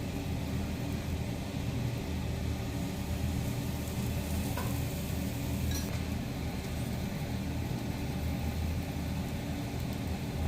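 Aloo paratha shallow-frying in groundnut oil on a pan, a steady close sizzle and crackle running throughout with a couple of faint clinks, no voices.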